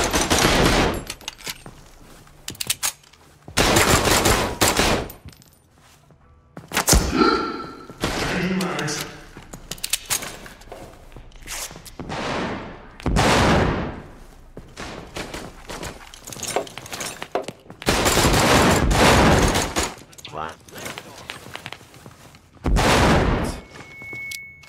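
Gunfire in America's Army: repeated loud, close bursts of rifle shots in clusters separated by short pauses, with a voice occasionally talking between volleys.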